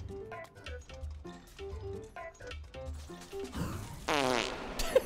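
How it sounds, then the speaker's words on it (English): A slow, drawn-out fart sound effect with heavy reverb, a series of low sputtering blurts stretching into a wet, echoing rasp near the end, fairly quiet and with no talking. "slow fart reverb sounds that send me"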